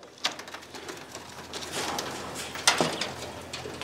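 Caged jumbo Egyptian quail on a homestead, giving a few sharp, bright calls over a soft background of rustling, with two louder chirps standing out near the start and toward the end.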